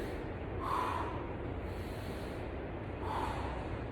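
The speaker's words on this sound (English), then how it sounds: "Exhale my pull and inhale right here" Heavy breathing during kettlebell Romanian deadlifts, two forceful exhales close to the microphone, a few seconds apart, over steady background noise.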